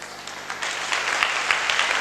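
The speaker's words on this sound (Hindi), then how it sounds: "तालियां मत बजाओ" An audience at a Hindi Christian sermon claps steadily for about two seconds: a dense, even patter of many hands at moderate loudness, with no voices.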